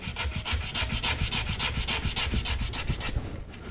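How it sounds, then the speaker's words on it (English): Sandpaper rubs steadily back and forth over a handmade wooden fishing float, a fast even run of gritty scraping strokes, close and loud throughout with no talk. "Let's get this sanded down first."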